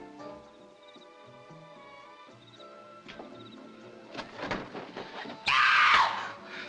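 A sudden loud scream cuts through orchestral film music in a film-noir crime thriller, sharp and piercing near the end after a stretch of quieter score.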